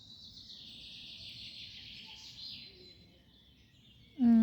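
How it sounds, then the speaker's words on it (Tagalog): Various birds sing and chirp faintly in a European forest, a thin continuous twittering over a low background hum, then a voice breaks in loudly at the very end. "sarap pakinggan ng iba't ibang huni ng ibon"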